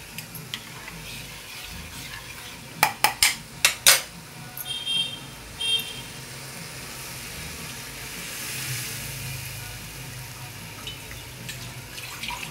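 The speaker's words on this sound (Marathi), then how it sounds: "आता आपण हे चण्याचं पीठ जे आपण भिजवून घेतलेलं आहे ते आपण कढईत सोडूया।" Soaked gram flour batter goes into a wok for Maharashtrian pithla, with a few sharp metallic clanks of a utensil against the pan, then quieter stirring scrapes over a faint background hiss.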